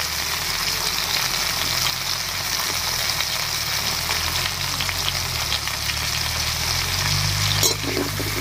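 Potatoes sprinkled with salt and turmeric fry in hot oil, giving an even, moderately quiet hiss throughout with a low background rumble and one brief clink near the end.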